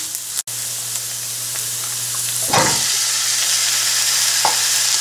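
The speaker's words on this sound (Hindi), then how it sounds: "तकरीबन 2 मिनट भूनने के बाद मैं इसके अंदर कीमा ऐड कर दूंगी।" Minced meat fries in a pan with a constant close hiss, broken by a sharp knock near the start and a brief louder burst of stirring midway, with no one talking.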